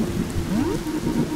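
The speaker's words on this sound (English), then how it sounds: "I have to talk really loudly because of the rain in the background in the game" Steady rain and rolling thunder fill the background of Cattails, a cat life-simulation game, a dense continuous downpour with a low rumble beneath it throughout.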